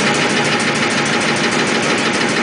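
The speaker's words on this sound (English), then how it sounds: "Just high pressure pump it again." A high pressure pump running steadily, a loud, continuous broadband mechanical drone with no breaks.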